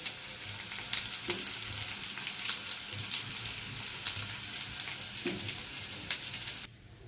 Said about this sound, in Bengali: এখন মশলাটা কষাই রান্না কমপ্লিট করি